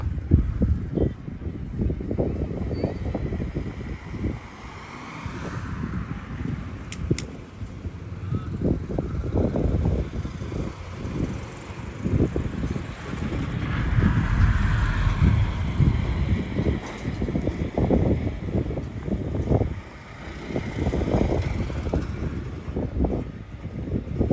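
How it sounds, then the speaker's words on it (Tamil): A boat moving toward the shore near the Pamban bridge at sea, with a steady engine and water rumble and gusting wind on the microphone, continuous throughout. "அவங்க படகு இப்போ வந்து கரையை நோக்கி போகுது"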